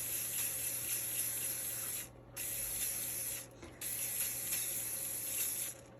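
A spray paint can hissing in long steady bursts, with two brief pauses between sprays, close by.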